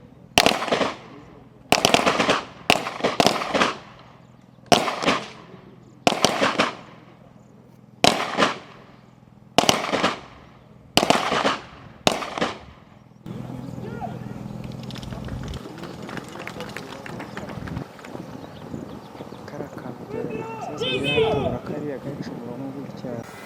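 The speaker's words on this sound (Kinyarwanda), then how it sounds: "bariya nabo bagiye kurasa bihuse ariyo twita speed shooting" Police officers fire during a speed shooting drill, producing a rapid series of loud, sharp gunshots in a steady rhythm, followed by a stretch of outdoor background noise and movement with voices speaking.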